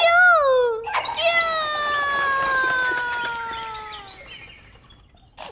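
A cartoon turkey hen gives a sustained, strongly pitched clucking call that sounds almost sung, preceded by a short squawk and trailing into a quieter tail; it sits close and loud with little else around it.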